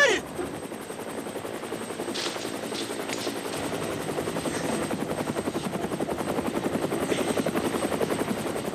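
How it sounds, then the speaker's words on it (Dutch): Helicopter rotor chopping steadily throughout, a loud rhythmic thudding beat that grows slightly stronger, with a high whine above it and no talk. "Helikopter!"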